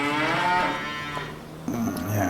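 Cows in a farming video game give a long, loud, close moo, followed by a short second lowing call near the end.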